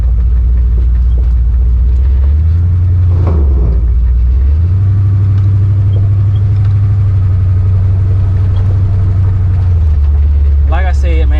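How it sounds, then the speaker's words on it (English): Truck fitted with a Cutters Performance 350 combo idling high, a loud steady rumbling drone that dips briefly and rises again, with a short bright whine near the end. "The idle is pretty high"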